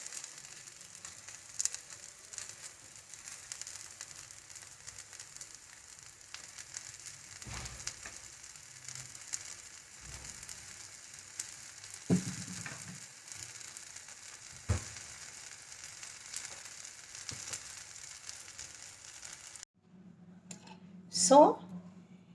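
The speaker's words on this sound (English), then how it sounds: "let's fry this to a crisp dosa" A leftover-batter dosa crisps on a hot pan with a faint, steady sizzle, broken by a few soft thumps and a brief louder scrape near the end.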